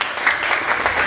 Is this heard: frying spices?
no